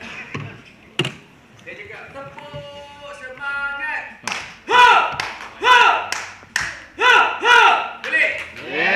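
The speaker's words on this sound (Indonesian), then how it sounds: "Tepuk-tepuk semangat. Saya demo satu kali," A group performs a rhythmic 'tepuk semangat' spirit clap at a YouTube and community cinema workshop: sharp, loud claps in patterned bursts, with some chanted voices between them.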